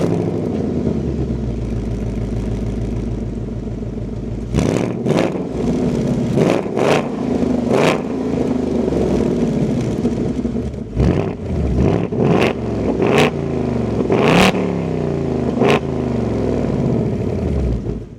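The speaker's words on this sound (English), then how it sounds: "keep my foot on the clutch, so go ahead and fire it up." A 2026 Ford Mustang GT V8 with a manual gearbox idles with a steady low rumble, then is blipped through a run of sharp, loud revs that rise and fall repeatedly, heard up close from inside the car.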